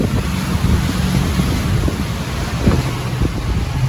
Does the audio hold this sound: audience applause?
no